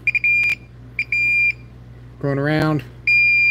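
A handheld circuit tracer, Klein or Ideal, running on a nearly dead battery, gives short steady high-pitched beeps in bursts, then pauses and beeps again, near and clear, with someone speaking briefly between beeps.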